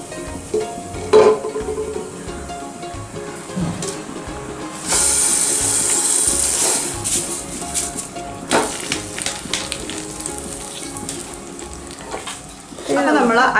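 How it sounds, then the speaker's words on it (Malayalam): Washed, drained rice frying with biryani masala in a pan for chicken biryani, giving a steady close sizzle and hiss with scraping stirring bursts, a louder spell midway. "ഇങ്ങനെ നമ്മൾ അരിയെല്ലാം വറുത്ത് വന്നിട്ടുണ്ട്"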